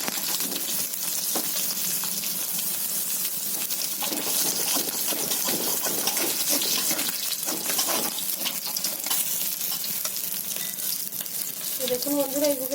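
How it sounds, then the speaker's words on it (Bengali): Pieces of katla fish frying in a pan, a loud continuous sizzle and spatter that fills the space, with faint stirring near the end. "এইভাবে লাল লাল করে মাছগুলো ভেজে নিই"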